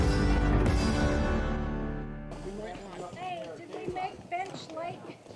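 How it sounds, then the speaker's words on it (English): Horses walking along a mountain trail in Idaho's Sawtooth range, their hooves clip-clopping faintly under people talking, after a brief tonal sound at the start. "I discreetly got the horses on camera."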